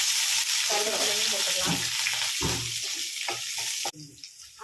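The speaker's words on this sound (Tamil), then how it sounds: "கடுகு போட்டுக்கலாம் கடுகு பொரிஞ்சாலே" Mustard seeds crackling in hot oil for a Sunday goat head curry, a dense, loud sizzle with popping bursts and a few stirring scrapes, cutting off abruptly near the end with no talk.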